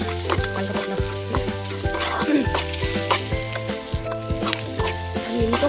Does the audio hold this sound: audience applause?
no